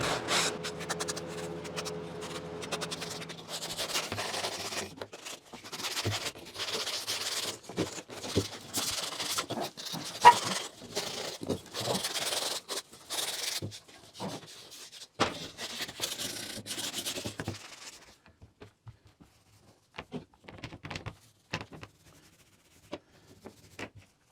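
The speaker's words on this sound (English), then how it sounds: "It doesn't take much to just deburr those." Model railroad track pieces being deburred by hand, giving a run of close, uneven scraping and rasping strokes that stop after about eighteen seconds, leaving a few faint ticks and handling sounds.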